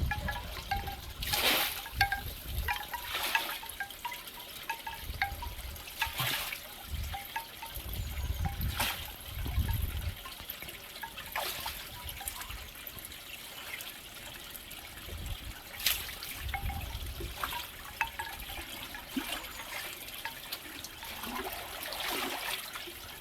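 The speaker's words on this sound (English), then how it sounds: "Now I'm just going to disperse it evenly around the pond." Acriflavine pond treatment is dispersed around a garden fish pond, giving trickling, splashing water sounds in irregular bursts close by, with no talking.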